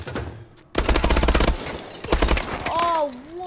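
Bursts of rapid automatic fire from the Bal 27 rifle in Call of Duty: Advanced Warfare, two clipped volleys close up with echoing tails, followed by rising and falling electronic game tones.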